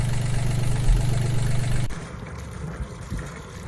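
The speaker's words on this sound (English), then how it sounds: "the engine now seems to be running smoothly again" A sailboat's marine engine, just fitted with a new impeller, idles with a steady low rumble for about two seconds, then cuts out, leaving quieter background noise.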